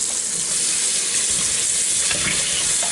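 Frozen chicken wings are rinsed under running kitchen tap water, a steady loud hiss of water splashing onto them with faint irregular patters, continuous and close with no talking.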